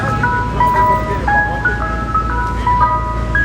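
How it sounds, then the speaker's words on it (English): An ice cream truck plays its tinkling Mister Softee jingle at a moderate distance in New York City's Central Park, over the low rumble of passing traffic. "Ice cream truck."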